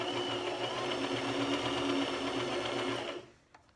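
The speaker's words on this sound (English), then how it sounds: "I'm sewing pretty close to that elastic without sewing the elastic itself" A sewing machine stitching knit fabric beside elastic for a face mask gives a steady, close whir of rapid stitches, then stops abruptly near the end.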